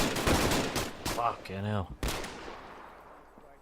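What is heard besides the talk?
gunfire in military video game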